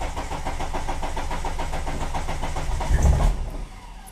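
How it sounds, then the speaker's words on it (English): A 420a engine running a Megasquirt ECU cranks on a start attempt, with a steady rhythmic starter churn and a brief louder surge near the end that fades out without catching. "Let's try to start it."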